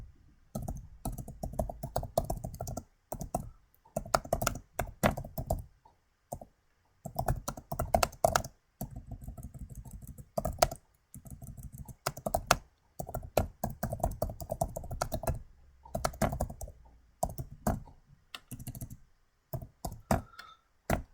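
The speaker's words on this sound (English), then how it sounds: "I would start typing information." Typing on a computer keyboard while filling in a document, quick bursts of close key clicks separated by short pauses, fairly quiet with no talking.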